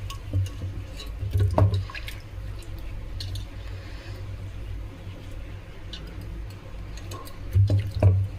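Elephant foot yam tubers being washed by hand in water, with wet squishing and sloshing in close bursts near the start and end and a softer trickle of water between them.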